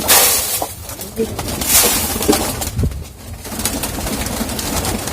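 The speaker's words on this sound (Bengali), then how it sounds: "এগুলো আমার নর কবুতর নর কবুতরগুলো খাবার খাওয়ার জন্য প্রস্তুত" Male pigeons coo repeatedly at close range just before being fed, their low, throaty calls sounding against steady background noise.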